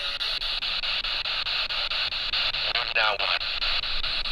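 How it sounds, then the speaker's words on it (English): A ghost-hunting spirit box radio sweeps rapidly through static, a loud hissing white noise chopped into quick, regular pulses, with a brief voice-like fragment near the end. "It generates white noise and it sounds just like this."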